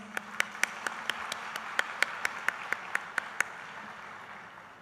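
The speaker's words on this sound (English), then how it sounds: "Please give a round of applause" Rhythmic, evenly spaced claps ring out at a university convocation in Dubai, about fourteen sharp beats in a steady tempo over a faint crowd hum, fading out near the end.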